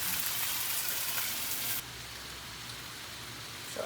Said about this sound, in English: I'm gonna add some mushrooms and fry those into it too.